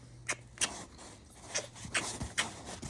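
A Great Dane puppy gives soft, short whimpers and snuffles close by, several brief cries spread irregularly over a few seconds, with quiet shuffling between them.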